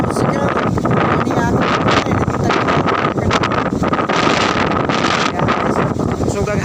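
Strong, roaring typhoon wind on Panglao Island buffets the microphone continuously, a dense, loud rush with gusts and rattling, no pauses throughout.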